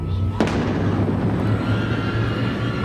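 A sharp thunderclap cracks as a lightning effect on a haunted game board, followed by a long rolling rumble that lingers under steady low noise.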